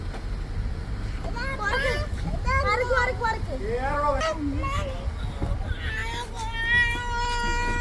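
Several drawn-out cat meows sound under people talking, over a steady low engine rumble.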